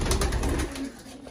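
Pigeons in a loft give soft low cooing, close and fairly loud at first, then quieter over a steady rustling background.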